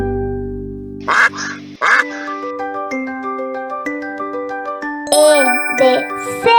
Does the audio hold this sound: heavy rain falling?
no